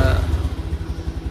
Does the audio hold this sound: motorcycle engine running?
yes